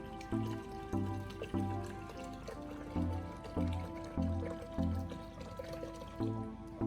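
Water pours steadily into the removable water tank of a Carimali CA1 coffee machine, a continuous filling sound with rhythmic background music throughout and no talking.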